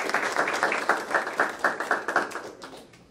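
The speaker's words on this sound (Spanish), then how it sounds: "Un fuerte aplauso para la licenciada Madrid" An audience at a health centre's public accountability event claps together, a dense, steady burst of applause with clearly pulsing hand claps that fades out toward the end.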